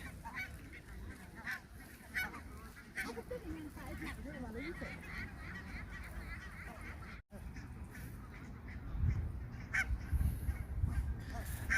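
Ducks floating on the water at the Royal Palace in Sweden give scattered honking, quacking calls at moderate distance, while people talk nearby.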